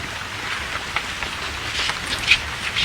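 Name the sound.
rain falling outdoors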